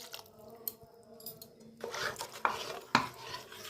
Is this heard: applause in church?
no